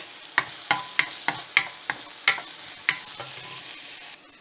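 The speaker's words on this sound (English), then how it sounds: "then you add the chopped ginger, garlic and green chilies and fry for about 2-3 minutes" Onions, ginger, garlic and green chilies fry in a pan with a soft sizzle, while a spoon stirs them in a series of sharp, close taps and scrapes about every half second, with no talking.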